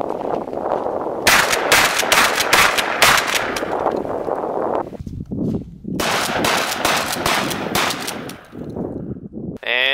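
Gunfire aimed at a compacted-snow snowman outdoors, with loud, rapid bursts of shots in quick strings, a short pause, then another long burst, close and sharp.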